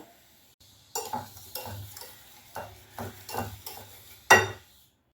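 A spoon scrapes and taps in a bowl of eggless apple cake batter as baking powder and baking soda are mixed in, several short stirring strokes with soft gaps between, ending in a sharper clink.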